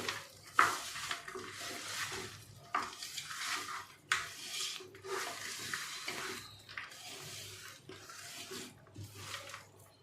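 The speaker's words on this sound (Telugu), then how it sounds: "ఇవన్నీ కలిసేలాగా కలుపుకోవాలి." Chicken pieces and biryani masala are stirred together in a pot, with repeated close, wet scraping strokes of a spoon against the pot, each surging and fading in an uneven rhythm.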